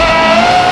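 A Ferrari 812 with a V12 engine and aftermarket exhaust, over 800 hp, holds a loud sustained high-pitched rev, a brief close tone with no voices.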